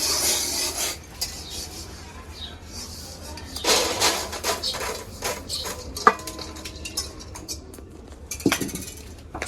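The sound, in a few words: fried peas and chickpeas poured and strained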